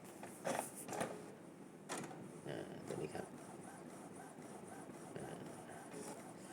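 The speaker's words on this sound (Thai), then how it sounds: "แล้วก็ปล่อย เครื่อง ก็ จะเทสออกมาพิมพ์มา" An Epson L8050 inkjet printer runs its first test print, making soft mechanical whirs and creaks of the feed and print head while someone talks over it.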